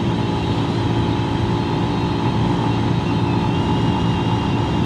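A Lexmoto Isca 125 motorcycle engine drones steadily while riding, close and loud, with a constant rumbling hum and no breaks.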